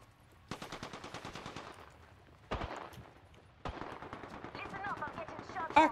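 Bursts of automatic weapon fire in the Apex Legends arena mode arrive as rapid rattling strings separated by short gaps, with sharper single shots and game effects layered in, moderately loud.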